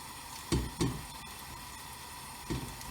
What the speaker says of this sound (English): That's starting to sizzle.